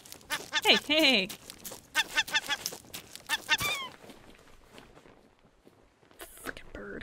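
A bird squawks and honks several times in a burst early on in the survival game Raft, loud and close, with a voice talking over and between the calls and a brief squawk returning near the end.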